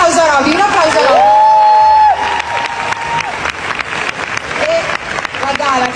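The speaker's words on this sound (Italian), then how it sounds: "Un applauso a Roby, un applauso a Roby." Concert audience at a show breaks into applause and cheering, loud at first then fading under a woman's amplified speech over the crowd.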